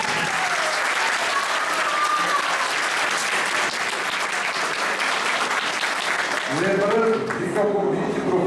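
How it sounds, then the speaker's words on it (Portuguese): A university audience applauds the five rector candidates at the close of a debate, a full, sustained burst of clapping for about eight seconds, with a voice and some tonal sounds rising near the end. "convidá-los a uma salva de palmas a esses 5 que hoje estiveram aqui"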